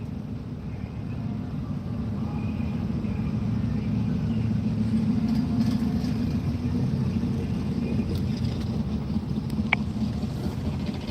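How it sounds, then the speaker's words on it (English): A big diesel engine idles at a drag strip in a low, steady rumble that holds on continuously at a moderate distance, with faint background noise and no talk. "If this big old diesel is going to run,"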